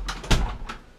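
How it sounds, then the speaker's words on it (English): A basement door shuts with one solid thump, between lighter clicks and rattles of the latch and frame, close by in a quiet house. "shut the door"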